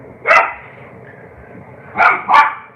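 A puppy barks indoors, a single sharp yap followed after a pause by two quick yaps in a row, close and loud.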